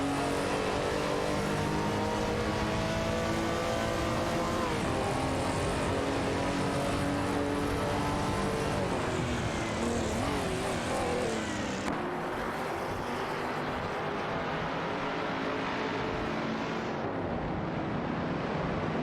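Race cars in a video game race roar past in a continuous, dense engine drone with shifting pitch as cars jostle for position, loud and close throughout with no voices.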